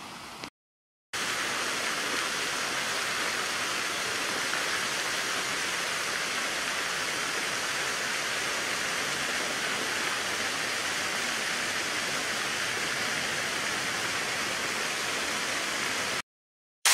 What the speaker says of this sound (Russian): Все тот же фонтан. Что-то он в полнагрузке.